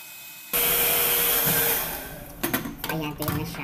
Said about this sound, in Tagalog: Start muna ako sa blower.